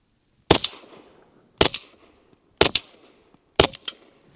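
Four evenly spaced, sharp shots from a SAR9 SOCOM 9mm pistol fitted with a Sidewinder M2 suppressor, each a muffled crack with a short tail, fired outdoors about one second apart.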